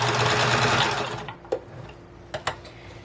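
A sewing machine runs a fast, continuous stitching whir through upcycled curtain fabric, then stops, followed by a few soft clicks and handling knocks nearby.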